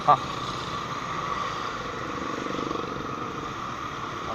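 A CFMoto NK400 V4 motorcycle runs in traffic, its engine and exhaust humming at moderate level with a slight swell, heard under a man's chatter and a brief knock at the start.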